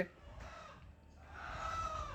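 Domestic chickens cluck and call close by, a short run of throaty clucks over a steady low background hum.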